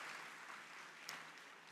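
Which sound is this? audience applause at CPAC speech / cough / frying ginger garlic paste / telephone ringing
audience applause at CPAC speech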